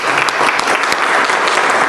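Steady audience applause filling a Turkish lecture hall, dense continuous clapping at even strength throughout, with a few sharper individual claps standing out.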